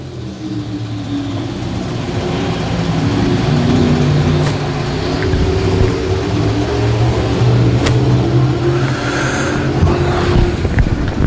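Vintage stock cars racing in a mains event at I-35 Speedway, several engines droning together in a loud, steady roar that swells slightly as the pack runs, with wind buffeting throughout.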